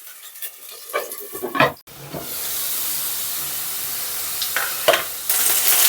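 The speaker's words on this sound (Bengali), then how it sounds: "আলুগুলো হালকা হালকা ফ্রাই হয়ে গেছে" Cut, washed potatoes frying in a pan, a lid set over them: a steady broadband sizzle fills most of the stretch, with a few louder bursts of spatter and clatter early on and a brighter hiss surging near the end.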